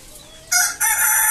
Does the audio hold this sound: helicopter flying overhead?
no